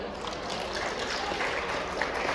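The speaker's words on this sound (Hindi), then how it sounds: "सबसे पहले इन स्कूलों के लिए हम सब मिलकर ताली बजाएं।" An audience applauds at a First Tech Challenge robotics event at SGT University, a soft, even patter of many hands that sounds distant and fairly faint.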